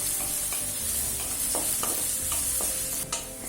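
Chopped radish sautéing in a pan for vegetable chutney, a constant close sizzle with occasional spoon scrapes and taps as it is stirred.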